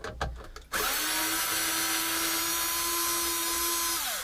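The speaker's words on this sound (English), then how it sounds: "Not a drill, it's a screwdriver. That was full power." After a few quick clicks, an electric screwdriver whirs loudly at full speed with a steady high whine, running for about three seconds before winding down.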